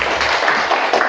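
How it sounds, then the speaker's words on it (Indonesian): A classroom of students clapping hands together in a short, dense burst of close, steady applause. "Tepuk tangan dulu."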